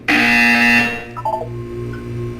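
A loud, harsh electronic buzzer from the Portal 2 video game blares for under a second, followed by a few soft electronic blips over a low mechanical hum.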